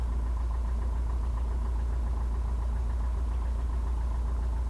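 A small aircraft engine idles on the ground before a run-up, a steady low droning rumble with even pulsing, close and loud throughout, with no voices.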